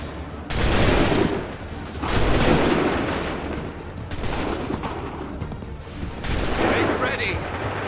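Musket volleys in Assassin's Creed III, with massed gunfire cracking out in several loud bursts a couple of seconds apart over battlefield din.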